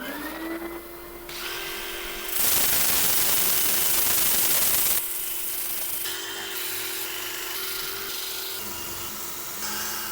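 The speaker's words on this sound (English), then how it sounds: "I'm going to set up for sanding again." Sandpaper rubs against a spinning wood-turned piece with bark on a lathe, a steady whirring drone with a loud, harsh rasping burst in the middle before easing back to the motor hum.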